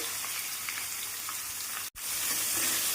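Half a kilo of chicken sizzles and fries in a hot pan with curry leaves and onion, a steady close crackle broken by a momentary dropout before the frying resumes.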